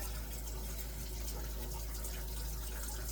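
A kitchen faucet runs steadily as water is heated for home canning, a constant rushing hiss with no pauses, close by and alone without talk.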